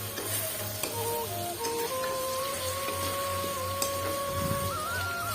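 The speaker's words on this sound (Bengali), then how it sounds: "এই যে ভাই মাংস চাপিয়েছি রান্না করতে" Meat cooking in a pot, a steady close sizzle and bubbling with a faint hum and a few light clinks, continuous and even throughout.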